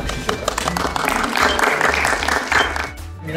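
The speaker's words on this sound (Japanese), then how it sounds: "ちょっと拍手しようか。" Boccia club members clap together at a club gathering, a close, busy round of applause lasting a few seconds before tapering off, with a voice speaking over it.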